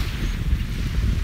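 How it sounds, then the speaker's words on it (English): Steady gusting wind on a beach buffets the microphone, a loud continuous low rumble with no pauses. "It's a little bit windy down here this morning."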